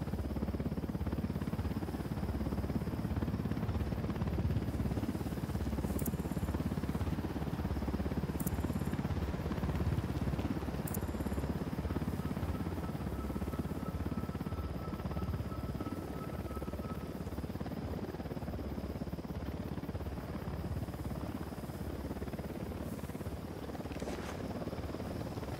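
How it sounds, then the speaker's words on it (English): Helicopter in the video game Ghost Recon Wildlands, a loud continuous rotor and engine drone that holds steady throughout, with faint clicks and brief tones over it. "Hit the dirt, helicopter."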